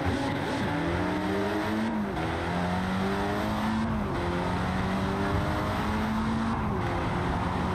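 A Honda Civic in Assetto Corsa weaves through traffic, its engine loud and continuous, climbing through revs with several gear shifts and brief drops between pulls.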